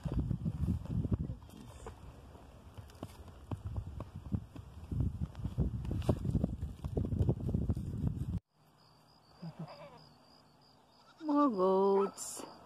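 Goats kept for clearing overgrown land bleat outdoors, one loud, wavering bleat rising close by near the end after a stretch of rustling movement and handling noise.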